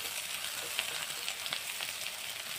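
Potatoes fry in oil with turmeric and cumin powder, giving a soft, even sizzle with faint crackles and a few light stirring taps.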